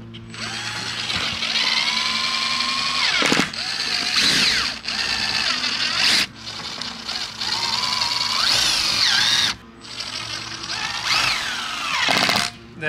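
A power drill drives self-tapping screws into an RV trailer roof while a Renogy 100W solar panel kit is being installed: several loud, close bursts of whining motor rising and falling in pitch, separated by short pauses.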